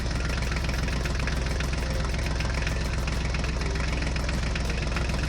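Constant, even engine chugging with a rapid knocking rhythm fills the whole stretch, loud and unbroken, with no talking, from a toy Mahindra tractor pulling a trolley.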